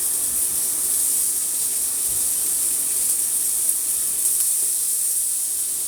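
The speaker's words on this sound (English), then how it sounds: "I'm going to do a very simple saute on these." Short ribs sautéing in oil in a pan, a steady bright hiss of sizzling fat that holds an even level throughout, close and unbroken, with no voices.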